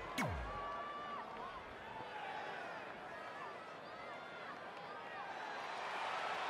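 Wrestling crowd at a ladies' night pro wrestling show cheering for a ring entrance, a steady, dense roar of cheers and whoops with babbling voices filling the arena throughout.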